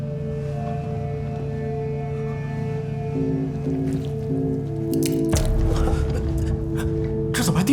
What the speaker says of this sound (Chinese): 这怎么还滴水啊？